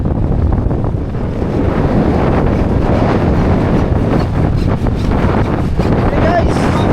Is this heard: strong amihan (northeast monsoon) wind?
yes